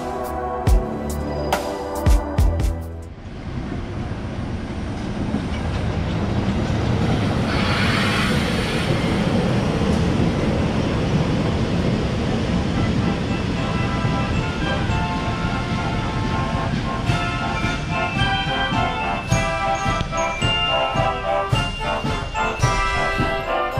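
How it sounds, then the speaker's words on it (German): A special music train on the Zittau narrow-gauge railway passes close by, a loud, steady rumble of wheels and carriages that lasts about twenty seconds, with rhythmic clatter toward the end and no talk. "Hier kommt uns gerade der Musikzug entgegen."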